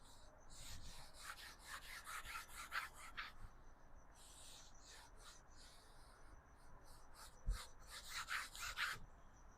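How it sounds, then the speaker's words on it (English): A rag is wiped across an oil-painted canvas to lift excess paint, oil and medium, giving a series of soft, quiet, close brushing strokes in quick bursts with short pauses between them. "grab a nice little rag, come up here, and wipe off all that excess paint with oil, medium, all of that"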